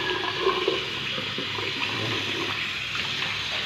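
Water runs steadily from a faucet on a newly installed water meter line in a plumbing job, a close, continuous splashing stream with no talking.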